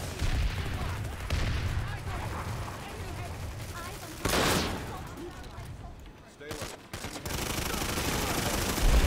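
In the Planetside 2 video game, a frag grenade is thrown amid rapid gunfire, with a loud burst of its blast partway through and continuous shooting before and after.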